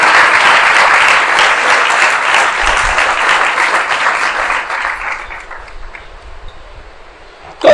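A church congregation claps together in a loud, dense burst that thins and fades toward the end, with no voices over it.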